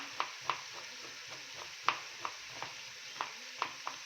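Onions frying in a pan with a pinch of salt and lemon, with a spoon scraping and tapping the pan in irregular, fairly close strokes over a soft, steady background hiss.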